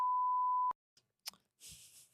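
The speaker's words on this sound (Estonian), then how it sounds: "Pane piiks peale." A single steady censor beep tone sounds loud and alone for under a second, then cuts off abruptly into brief faint noises.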